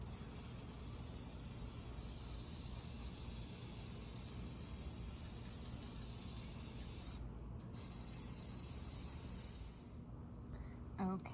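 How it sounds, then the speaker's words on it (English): A can of black spray paint hisses in a long, steady, continuous spray applied close up, with only a brief pause near the end and no talking. "This is just a 96-cent can of black spray paint."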